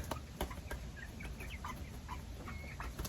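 Diva chicks and young hens cluck softly in a coop, with short scattered calls and a few sharper peeps over a steady low background hum.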